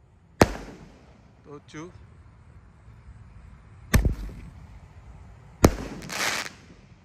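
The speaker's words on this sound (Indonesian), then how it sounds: "menyalakan banyak sekali mercon dan petasan yang ukuran jumbo spesial Idul Adha 2025" Three jumbo paper firecrackers set off for Eid al-Adha explode in sharp, loud cracks a couple of seconds apart, each followed by a brief rumbling echo, with a man counting between blasts.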